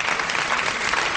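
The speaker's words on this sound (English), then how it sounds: "You may applaud that." An audience breaks into loud, dense applause, a continuous wash of clapping that stays full and even for its whole short length.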